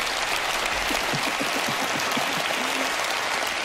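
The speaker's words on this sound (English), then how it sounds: "This applause is for you." Steady applause from a studio audience at a magic show, dense and continuous throughout, with faint voices mixed in underneath.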